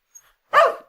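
A dog gives a single loud, close bark after a brief faint sound, with no other noise around it.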